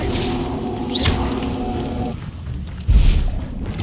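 Incendio fire spells in the Hogwarts Legacy video game burst with a whooshing flare and a deep booming thump near the end, set over layered, tonal game effects and music.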